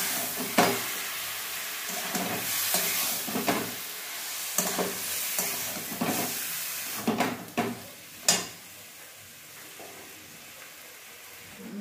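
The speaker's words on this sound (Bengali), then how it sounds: "তো এখন এটাকে ভালো করে শুধু কষাতে হবে" Chicken and chopped onions sauté in a pan with a steady sizzle, broken by repeated scraping strokes from stirring, close and moderately loud.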